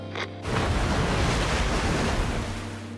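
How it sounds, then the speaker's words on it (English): Water floods a plaza in the NIKKE video game: a loud, continuous surging rush like heavy surf swells in after a brief low hum and keeps roaring for several seconds. "That sounds like the water flooding the plaza."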